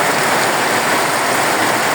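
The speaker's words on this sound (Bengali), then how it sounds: "তো শুনুন আপনারা বৃষ্টির সাউন্ডটা" Heavy rain pouring down in a dense, loud, unbroken roar of water close by, with no talk.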